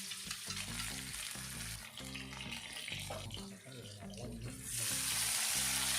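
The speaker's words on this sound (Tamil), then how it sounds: "வெங்காயம் தக்காளி ரெண்டுமே வதங்கணும்." Onions and tomatoes sautéing in a pan for traditional Tamil bisibele bath, a steady close sizzle with stirring and utensil scrapes, turning brighter and hissier near the end, no talk.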